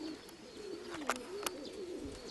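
A grey female pigeon coos in a soft, low, wavering drone, faint and somewhat distant, broken by a couple of sharp clicks.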